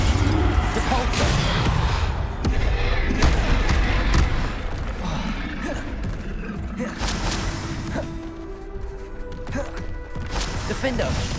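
Spell effects from Bombarda and Depulso cast in Hogwarts Legacy: booming blasts, thuds and crashing impacts under a shouting voice, dense and loud combat clatter throughout.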